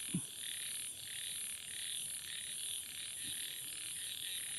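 A frog croaks twice at night during frog hook fishing, once at the start and again a few seconds later, over a constant high insect-like drone.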